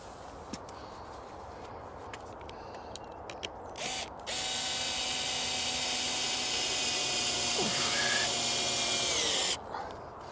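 A power drill drives the central screw into clamping wood while fitting a polytunnel cover, a few faint clicks and taps first, then a loud steady whirring run of about five seconds that stops abruptly, outdoors with background noise.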